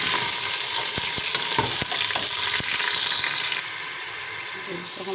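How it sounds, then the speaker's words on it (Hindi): Chicken feet fry with garlic, ginger and cumin in a hot pan, a dense steady sizzle broken by several sharp clinks of a spoon stirring, easing slightly quieter near the end. "लहसुन अदरक और ज़ीरे के साथ इनको फ्राई करेंगे।"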